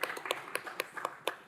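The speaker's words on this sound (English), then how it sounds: "So a round of applause for our Commissioner" Applause at a city government meeting for a newly appointed commissioner, a small group clapping in quick irregular claps, fairly faint and brief.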